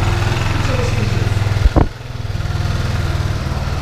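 A Kymco Joymax 250 scooter engine sputters to life after a short starter burst, then settles into a steady, close, rhythmic idle.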